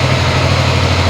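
A QJMOTOR ATX250X adventure scooter engine runs steadily at idle, a loud, close, continuous low rumble with no voices over it.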